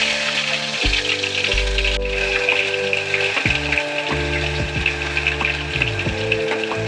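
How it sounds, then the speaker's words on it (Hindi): Onion paste frying in hot oil for chicken gravy, a steady close sizzle with clinking and scraping of a utensil stirring in the pan throughout. "अब इसमें डालेंगे हम प्याज"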